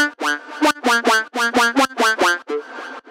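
Layered synth patch for a moombahton track with a nasal, duck-like quacking tone, played as a quick run of about nine punchy, bright notes in an uneven rhythm, loud and close with nothing else playing.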